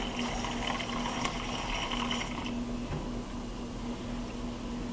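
Water runs steadily from a tap into a pot of rice being rinsed, a soft continuous rush with faint sloshing as the flow shifts partway through.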